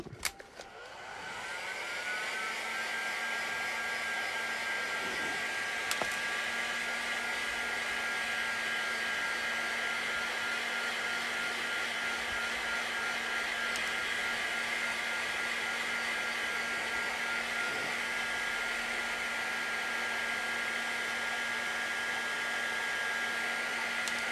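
A heat gun heats material to form a front preform, giving a steady, loud, continuous blowing whir that starts within the first second and holds unchanged for over twenty seconds, with no talking.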